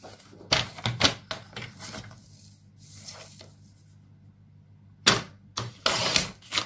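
Paper for a mini photo album being cut to size, a series of crisp close snips and rustles in short bursts, with a quieter stretch in the middle.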